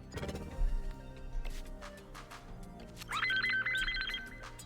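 Telephones ring in the video game Dispatch. Several electronic rings overlap, and a bright trilling ringtone stands out near the end over the game's background sounds. No one speaks.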